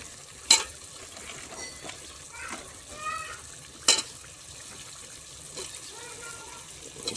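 Food frying in a pan is stirred, with a low sizzle broken by a few sharp scrapes and clinks of the spoon, and a voice talking over it.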